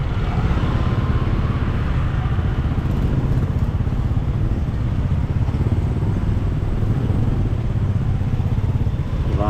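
Motorcycles and cars crawl through heavy street traffic in San Fernando, making a dense, steady wash of engine drone and clatter with no pauses.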